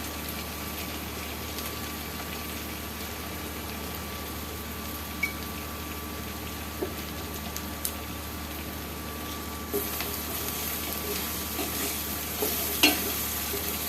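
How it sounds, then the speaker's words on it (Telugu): Ginger paste frying and stirred in a pan for a spicy Telangana-style chicken fry, giving a steady close sizzle with occasional scraping stirs and clinks throughout. "అల్లం పేస్ట్ మంచిగా వేగినట్టు కిందికి అంటుకుంటుంది"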